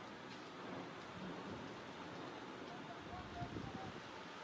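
A heavy monsoon downpour with thunder, heard as a constant rush of rain with low rumbling mixed in, fairly faint and even throughout, with a brief louder swell near the end.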